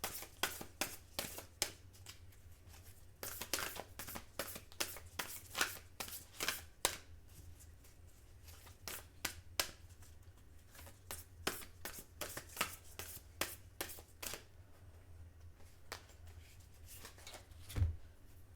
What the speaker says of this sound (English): Let's go ahead and draw a Pegasus card.